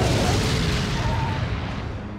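An incendiary grenade exploding in the video game Resident Evil 4, a dense roaring boom that holds steady and then slowly fades over about two seconds.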